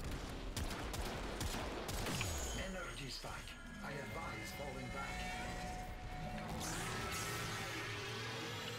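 Rapid gunfire from weapons aimed at an Eidolon in the video game Warframe, crackling in dense bursts through the whole stretch over game effects, with voices mixed in.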